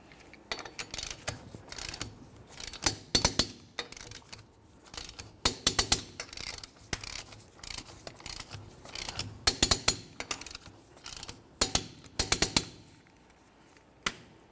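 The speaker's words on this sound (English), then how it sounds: "let's continue on to torquing each of our 4 19mm lug nuts to 100 foot-pounds" Ratchet or torque wrench tightening the four 19mm lug nuts on a 2005-2010 Chevrolet Cobalt rear wheel to 100 foot-pounds, heard close up as repeated bursts of sharp metallic clicking separated by short pauses, with no talking.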